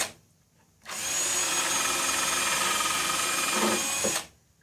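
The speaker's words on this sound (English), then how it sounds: "I'm still working with the 1/8 inch drill bit at this point." A power drill with a 1/8 inch bit whirs at high speed for a few seconds, starting abruptly and cutting off cleanly, with a slight strain near the end.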